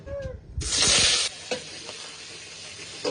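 Prawns dropped into hot oil in a pan burst into a loud, dense sizzle that cuts off after about a second, followed by quieter crackling and a couple of utensil knocks.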